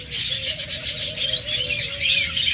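A pair of olive budgerigars kept as pets chirp in rapid, bright twittering bursts, close and continuous, over a faint steady background hum.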